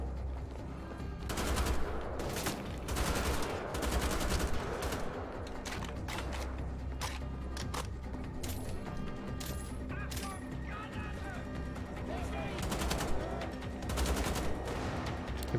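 Two guns fired at once in the shooter Wolfenstein: The Old Blood, loud overlapping bursts and shots scattered throughout over a steady game rumble, with some mechanical clatter.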